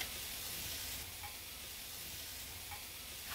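Marinated food sizzles on a hot grill in a steady, even hiss that carries on without a break, with no one talking over it.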